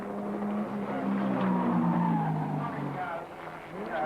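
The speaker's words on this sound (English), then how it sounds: "Some tyre squealing going on there on Peter Dane's car" Tyre squeal from Peter Dane's 1991 HQ Holden race car at Mount Panorama, Bathurst, rising over a loud, steady engine roar, with a commentator talking over it throughout.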